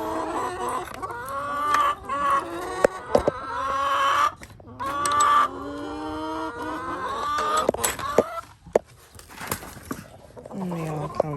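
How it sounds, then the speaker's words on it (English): Backyard chickens and roosters clucking and squawking in a busy, overlapping chorus of loud, close calls, with brief pauses and a sharp outburst near the end. "these chickens have something to say when things don't go their way"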